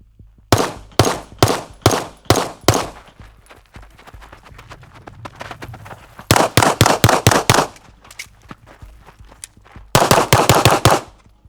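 Loud gunfire from a shooting drill of six rounds per stage: three groups of quick, sharp shots with short quiet gaps between the groups while the shooter moves or resets.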